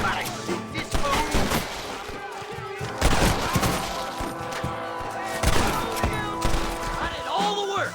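Repeated gunshots and rapid volleys crack through a Western shootout in the Red Dead Redemption game, with impacts and shattering hits, several heavy bursts standing out loud and close, and shouting voices over the firing.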